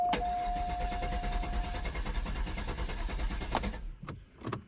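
A low-mileage Cadillac engine is cranked by its starter, a rhythmic, churning whir that runs steadily for several seconds without catching and then stops, followed by a few clicks and knocks in the quiet.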